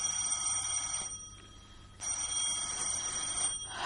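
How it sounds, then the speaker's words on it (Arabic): A telephone bell rings late at night in a home, loud and continuous, with a steady high electronic tone that breaks briefly and then resumes. "بدأت أحداث هذه الواقعة برنين التليفون في وقت متأخر من الليل"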